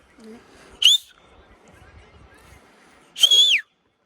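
Two sharp, shrill one-handed finger whistles, each sliding briefly in pitch, separated by a pause filled with faint background murmur.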